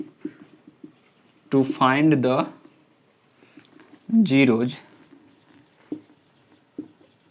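Pen scratching on paper while solving a class 9 polynomial problem: faint, scattered scratches and ticks run beneath two bursts of a man's speech.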